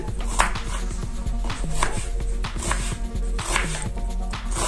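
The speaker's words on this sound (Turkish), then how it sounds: "Şimdi soğanlarımı küçük küçük doğrayacağım." Rapid knife chopping onions into small pieces on a board, quick repeated sharp taps in an even rhythm, close and fairly loud, with a low hum beneath.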